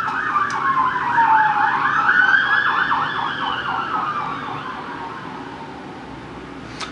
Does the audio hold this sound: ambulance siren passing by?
yes